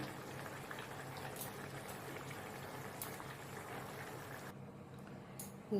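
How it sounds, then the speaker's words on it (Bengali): Soybean kofta curry gravy boiling in a pot, a faint, steady bubbling simmer throughout, heard alone without voices. "দেখুন, ঝোল আমার ফুটে গেছে"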